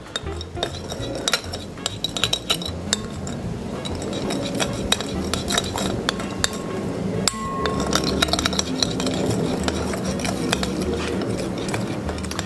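A utensil clinks and scrapes against a bowl while chili oil sauce is mixed, with irregular tapping and light knocks, close by.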